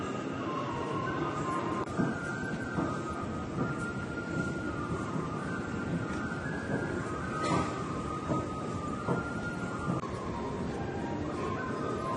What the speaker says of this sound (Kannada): ನೀವೀಗ ದೃಶ್ಯಗಳಲ್ಲಿ ನೋಡ್ತಾ ಇರ್ತಕ್ಕಂಥದ್ದು ಮೆಜೆಸ್ಟಿಕ್ನ ಮೆಟ್ರೋ ನಿಲ್ದಾಣ